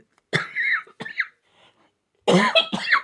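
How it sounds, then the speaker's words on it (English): A few harsh coughs close by, one short pair, a pause, then two more heavy coughs. "I'm still not over this cough"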